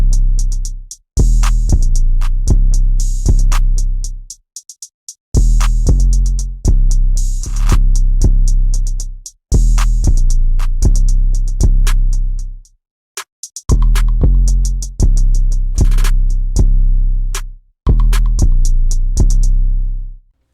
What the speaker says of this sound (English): So we can turn on all the drums now and we can hear them all together at once